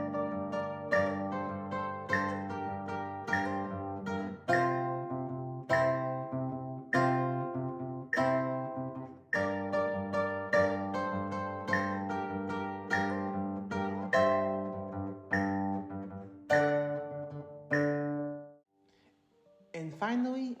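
A tune played slowly on guitar, a melody of plucked notes ringing over a steady bass, with clear pauses between phrases and a faint rustle at the end.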